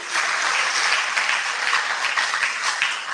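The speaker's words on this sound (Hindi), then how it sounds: "तालियां बजाएं खुद के लिए।" Steady applause from an audience at a stress-free living revision session, dense even clapping filling the whole stretch at a fairly loud level with no talk over it.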